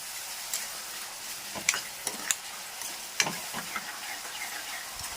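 Onions frying in oil for a dried fish masala curry, a soft steady sizzle with scattered sharp clicks and scrapes of a spoon stirring in the pan.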